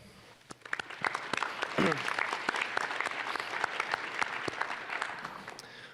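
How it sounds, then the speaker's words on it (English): An audience at a high school National Honor Society induction ceremony breaks into a warm round of applause, dense steady clapping that swells after a second and holds loud and even across the room. "let's take a minute right now for everyone to just give a nice warm round of applause as a thank you"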